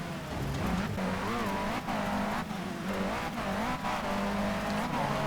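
A V8 Supercar engine drones in the racing game Toca 3, a steady loud tone with pitch wobbling as the car jolts over bumps, with brief dips and some tire noise and no talk.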